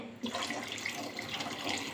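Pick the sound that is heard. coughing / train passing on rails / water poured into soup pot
water poured into soup pot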